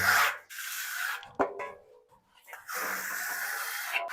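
A trowel scrapes and rubs over Grotto decorative plaster as it is compacted, long rasping strokes broken by short pauses and a sharp tap, close and fairly quiet.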